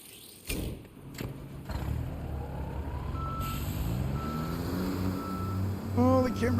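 A truck reverses in a construction game with a steady beeping alarm over a low engine rumble. A thud comes early and a mechanical whine rises near the end.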